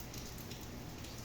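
Steady rain falls in Recife, a dense, even hiss of drops with no breaks, faint and uniform throughout with no voices.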